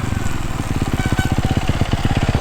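A Yamaha YZ450F dirt bike engine chugging nearby as it is ridden, a loud, rapid, evenly pulsing four-stroke thump that holds steady across the moment with no speech.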